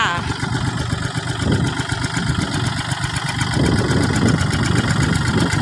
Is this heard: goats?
no